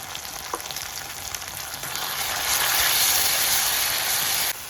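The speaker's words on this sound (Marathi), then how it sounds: "आता ह्याच्यामध्ये आपण कढीपत्त्याची पानं घालूया आणि पेस्ट घालूया" Curry leaves and spice paste drop into hot oil with sautéed onion, and the hiss swells into a loud, steady sizzle before cutting off abruptly.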